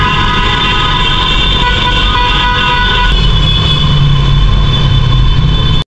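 A sustained vehicle horn blares loudly and continuously, echoing inside Cabiang Tunnel over steady engine and road roar.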